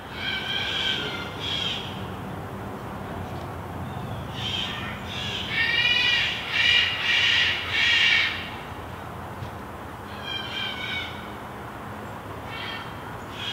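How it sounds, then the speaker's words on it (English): A caged parrot squawks in a frantic run of harsh, repeated cries. The calls rise into a loud burst in the middle and return in shorter bouts later, heard alone and without talk. "the parrot's just freaking out"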